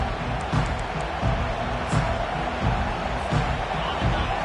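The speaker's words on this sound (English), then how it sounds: "This crowd, full throat, splitting the eardrums and letting them know it's going to be a long day" A packed college football stadium roars at a home game, a loud, continuous wall of crowd noise with swelling cheers. A voice is heard over the din.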